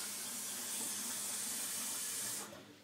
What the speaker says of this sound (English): I remove the water and I once again rinse my rice